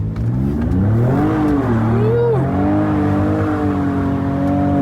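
Engine of a wrecked 2021 Ford Bronco revving loudly up and down, close by, with a sustained droning roar that climbs and falls in pitch; no talk over it.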